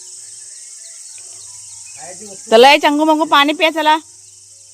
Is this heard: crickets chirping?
yes